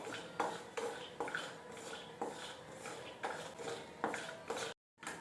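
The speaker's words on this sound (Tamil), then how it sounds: "இப்போ நம்ம பாதாம் வறுக்க போறோம்" Almonds roasting in a pan make a steady run of scraping and stirring strokes, about one per second, clear and close with no voices.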